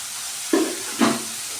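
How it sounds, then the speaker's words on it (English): Two short sizzling hisses from vegetables steaming in a hot pan, each a brief burst that quickly fades back to a quiet background. "We're going to steam them just a little bit longer."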